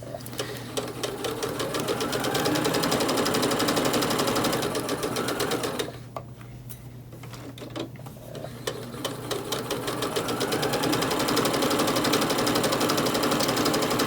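A sewing machine stitches through terry towel with a loud steady mechanical chatter of the needle, pausing briefly midway before resuming at full speed for a back stitch.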